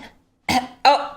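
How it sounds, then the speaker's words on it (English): A studio audience member at a TV quiz show coughs twice in quick succession, short sharp bursts close and clear against near silence. "Another cough."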